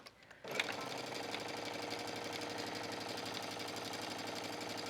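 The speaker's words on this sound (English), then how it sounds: "And I'm just going to stitch this, and then you'll see where I actually would go cut then." A sewing machine stitches a seam on a denim shirt dress, its steady rapid mechanical chatter running loud and continuous from just after a brief quiet start to the end, with no voices.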